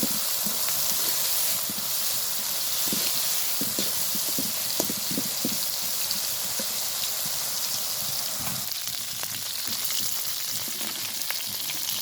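Fish roe fries with chopped potato and onion, salt and turmeric in a pan, giving a steady, close sizzle with faint stirring scrapes and pops throughout.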